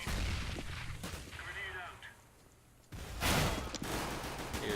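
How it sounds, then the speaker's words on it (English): A flashbang grenade goes off in Counter-Strike on the Mirage map, with a muffled lull followed by a sudden loud bright burst and ringing noise. Gunfire-like crackles come before it, and a voice is heard. "Deploying flashbang."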